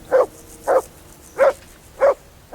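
In the medieval game Kingdom Come: Deliverance II, a dog lets out four sharp, close barks at a steady pace, with quiet gaps between them.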